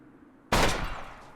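A Mosin rifle fires a single sharp, loud shot at an animal in the survival game Misery, and the blast rings out and decays over about a second.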